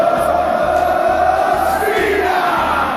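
Football stadium crowd chanting in unison, a loud massed roar of voices with a steady, rhythmic pulse filling the whole stretch.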